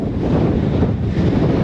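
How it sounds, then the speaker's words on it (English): Strong wind roars across Hump Mountain on the Appalachian Trail near the Tennessee–North Carolina line, a loud, steady, buffeting rush battering the microphone with no voices. "Windy right here."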